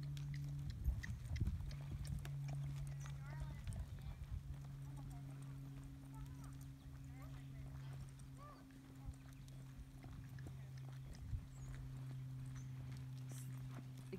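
A horse works at the trot along a ranch rail in a ranch-rail class, its hooves clip-clopping in a steady rhythm, moderately close, with a low hum and an announcer's voice speaking over it.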